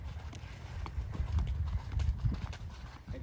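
Hooves of a horse cantering during a flat work riding lesson, a soft rhythmic drumming of footfalls on the arena surface, steady and moderately close throughout.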